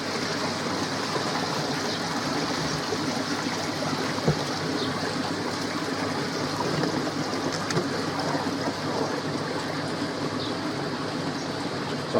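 Water pours and trickles steadily into a DIY koi pond filter, a continuous rushing stream at moderate volume with no voices.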